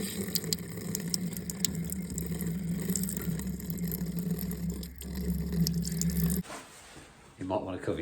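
Cleaning solution runs steadily into the heat exchanger of a Worcester system boiler during a service. A continuous, pump-like watery rush is heard under talking, then it cuts off abruptly toward the end.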